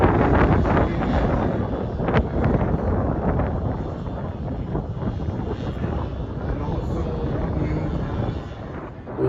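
A large-scale model de Havilland Rapide biplane drones overhead in intense wind at a Large Model Association airshow at Sleap; steady engine hum is heavily buffeted by loud, constant wind noise across the microphone.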